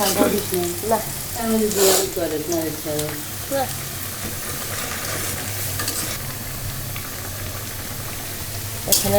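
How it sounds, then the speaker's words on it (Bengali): Big silver carp frying in a pan, a loud continuous sizzle with stirring and scraping bursts in the first few seconds, then steady crackling hiss to the end. "মাছ রান্না করা হচ্ছে বড় সিলভার কাপ মাছ"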